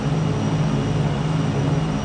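Steady, droning twin engines of a P-38 fighter plane held at run-up in a flight video game, a continuous even roar with no voices.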